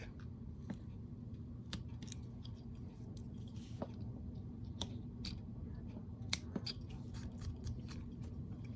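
A knife slicing through a simple wood carving, trimming down to a marked line: a series of short, crisp cutting clicks and scrapes at close range over a steady low background hum, with no talk.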